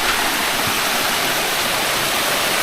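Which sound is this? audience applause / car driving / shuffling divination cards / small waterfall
small waterfall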